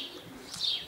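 Racing pigeon arriving at the loft during a club race flight, giving a brief soft coo and chirp with a faint rustle, heard alone and fairly close.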